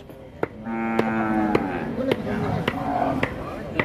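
At an Indonesian livestock market, an older pegon-type breeding cow that has calved five times gives a long, loud moo, with sharp knocks and a voice talking around it.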